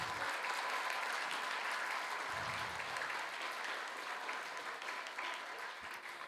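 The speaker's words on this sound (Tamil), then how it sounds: "அவங்களுக்கு எல்லாருக்கும் ஒரு பெரிய கைத்தட்டல் கொடுத்துடலாமா?" At a Tamil school's annual day and graduation ceremony, the audience claps in a soft, steady wash of applause heard from a distance, sustained throughout.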